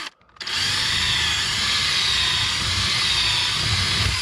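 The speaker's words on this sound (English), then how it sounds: "let's drill our hole for our nut and our bolt here." A power drill whines steadily and loudly after a brief quiet start, running continuously as it bores through material.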